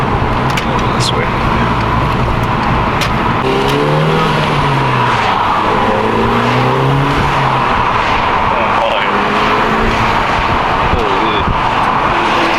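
Turbocharged VW GTI fitted with a CTS intake pulls hard, its engine drone and rising turbo whine carrying steadily throughout, with brief whooshing blow-off bursts between pulls and people talking excitedly inside the cabin.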